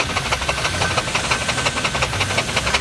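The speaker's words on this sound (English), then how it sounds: "This is a very unusual traction engine because this is chain drive." A chain drive steam traction engine running at a steam rally, giving a rapid, steady chuffing and knocking rhythm with mechanical rattle, close and fairly loud, with no talking.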